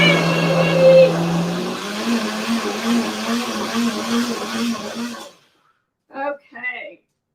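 A kitchen blender whirs loudly while mixing vegan wacky cake batter, its motor droning steadily for about five seconds before cutting off; a voice speaks briefly after it stops.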